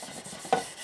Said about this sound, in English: make sure you keep your sandpaper wet